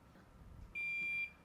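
A single electronic quiz buzzer at a campus quiz final sounds one steady high-pitched tone lasting about half a second, sharp and clear over a quiet room.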